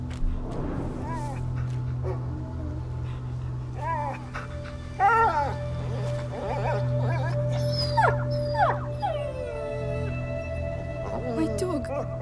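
A dog in the video game A Plague Tale: Innocence whimpers and yelps in repeated short cries over a steady low hum, with a few sharper bark-like calls, and a voice speaks briefly.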